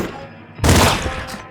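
A single loud shotgun blast from the top-down shooter Nuclear Throne bursts out after a quiet moment, followed by a brief trailing rumble and a smaller second crack.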